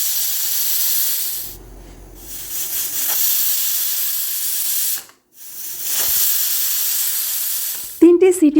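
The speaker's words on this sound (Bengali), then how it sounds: "গ্যাস ওভেনে বসিয়ে দিয়ে 3টি সিটি হওয়ার জন্য অপেক্ষা করব।" Pressure cooker on a gas stove cooking potato and cabbage, releasing a loud sustained hiss of steam in long bursts with short pauses between, ending with a warbling whistle rising at the close.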